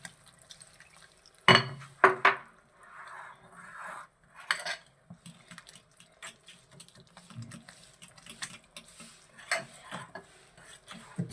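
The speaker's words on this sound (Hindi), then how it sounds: "आपने थोड़ा थोड़ा डालते जाना, इसको अच्छी तरह से मिक्स करते जाना।" Pancake batter mixed in a bowl, with close scraping and clinking strokes of a utensil against the bowl, a sharp burst early on, then softer, irregular stirring throughout.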